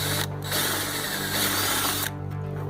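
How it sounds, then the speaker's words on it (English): A power drill runs through pre-drilled holes in metal arm extensions, a loud continuous whirring drone that dips briefly at the start and stops near the end, followed by rattling handling noise. "Now I'm going to just go ahead and put my drill all the way through both holes to make sure it's a nice straight through hole."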